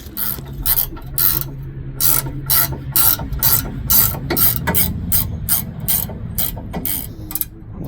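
Ratchet wrench tightening tow bar bolts, a rapid series of sharp metallic clicking strokes repeating steadily at close range, with no talk.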